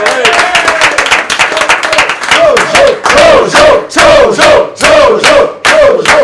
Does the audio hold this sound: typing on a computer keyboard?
no